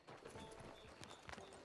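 Horse hooves clip-clopping in Red Dead Redemption 2, a quiet, uneven series of hoof beats at walking pace under a faint game background.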